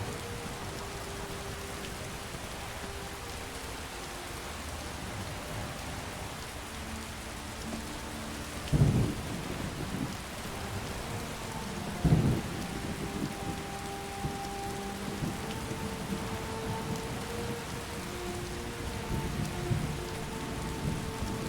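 Steady rain pours in the video game Skyrim, with two dull thunder rumbles breaking through the constant hiss, moderately loud and enveloping.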